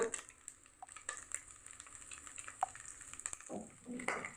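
Mustard seeds, cumin and curry leaves crackle and sizzle faintly in hot oil in a pan, with scattered pops and a few soft stirring scrapes.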